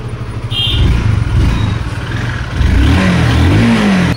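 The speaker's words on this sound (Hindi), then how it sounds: "और इंजन की साउंड भी भाई अपनी ओके है" Honda CBR motorcycle engine idling and revving up close, a loud steady rumble that swells in pitch for a rev partway through, with no voices.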